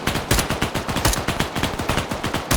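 Automatic gunfire in the Arma 3 military video game during a multiplayer firefight, rapid loud bursts of shots in a steady rhythm, up close and with no voices.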